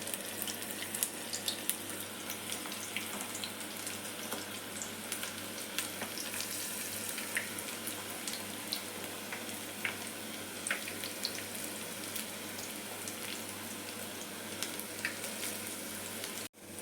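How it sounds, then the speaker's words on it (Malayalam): Onion pakoda fries in hot oil, a soft, steady bubbling sizzle with scattered pops and crackles, fairly quiet and continuous, ending with a brief clatter. "ഇനി നമുക്ക് പക്കോട ഉണ്ടാക്കി തുടങ്ങാം."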